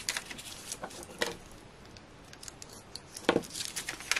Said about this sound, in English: so we'll just cut a little bit of the pad off